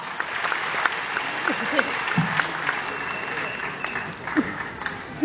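Audience applause at a Vestige success testimonies event, a steady wash of clapping that carries on under occasional voices and a few louder claps throughout.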